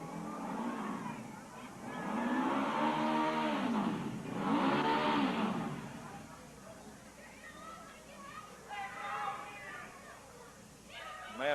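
A motor revs up and down in two swelling waves at a wrestling event, heard under steady commentary and crowd noise.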